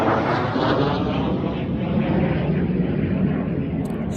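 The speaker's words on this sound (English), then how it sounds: "that would be a fast jet" A fast jet passes overhead, a loud, steady broadband roar that holds for several seconds without letting up.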